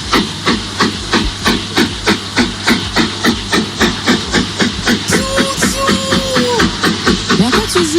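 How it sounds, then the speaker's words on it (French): An old toy steam locomotive chuffs and hisses in a fast, regular pulse of loud, close steam bursts that runs throughout, with a few whistling tones near the end. "J'ai sorti ma vieille loco pour faire de la vapeur."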